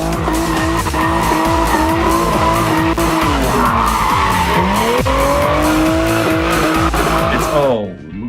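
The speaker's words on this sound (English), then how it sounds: "Nobody expects old Supra just driving around and drifting." An old Toyota Supra drifts on a track, its tires skidding and squealing continuously in long wavering howls over a loud, steady engine drone, close and sustained for several seconds before cutting off abruptly.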